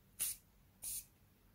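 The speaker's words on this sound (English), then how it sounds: "take a little bit of setting spray, just the Morphe Continuous Mist setting spray," Two short, crisp hissing bursts of Morphe Continuous Mist setting spray, about half a second apart, sprayed close by in an otherwise quiet room.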